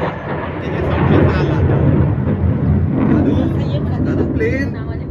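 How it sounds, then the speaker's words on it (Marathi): A jet aircraft, a Rafale, passes close overhead, its loud broad roar swelling and holding before easing off, with voices talking over it. "प्लेन इथून गेला. हो, इथून गेला, जवळूनच गेला."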